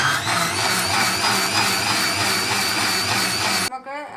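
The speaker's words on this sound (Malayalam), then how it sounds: "ഈ തേങ്ങ നല്ല നെയ് പോലെ മിക്സിയിൽ അരച്ചെടുത്തുകൊണ്ട് വരും" A mixer grinder grinding coconut runs as a loud, steady, close motor whine, then cuts off abruptly near the end, leaving a short quieter tail.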